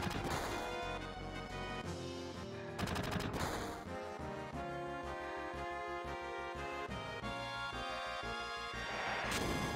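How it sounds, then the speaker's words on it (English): Enemy gunfire rattles in Final Fantasy VII, rapid bursts of shots and impacts layered with game music and effects, continuous and fairly busy across the stretch. "Why do they get to shoot so many goddamn times?"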